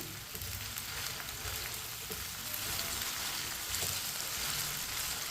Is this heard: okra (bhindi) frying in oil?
yes